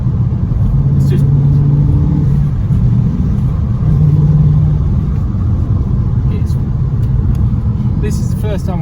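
A 2018 Ford Mustang GT with its 5-litre Coyote V8 rumbles steadily up close, a low, continuous drone beneath someone talking throughout.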